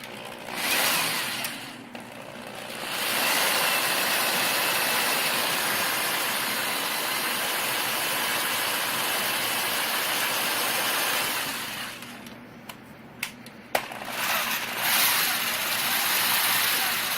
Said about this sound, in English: And then I'll reverse the drill.